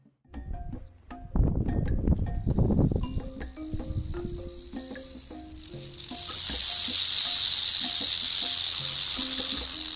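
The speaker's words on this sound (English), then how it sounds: "These snakes, known by the striking sound of rattles" Rattlesnakes rattling: a dry, continuous high buzzing swells in partway through and holds loud and steady to the end, after a stretch of scattered clicks and knocks.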